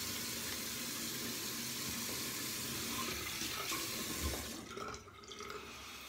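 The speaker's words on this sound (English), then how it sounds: "Now wash my face and do the second one." Tap water runs steadily into a bathroom sink during a face wash after shaving, a continuous close splashing hiss that briefly changes near the end.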